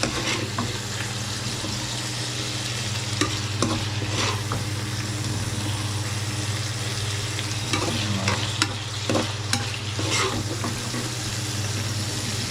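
Chinese-style stir-fry sizzling steadily in a pan, a continuous frying hiss with intermittent clacks and scrapes of stirring, close and fairly loud with no talking.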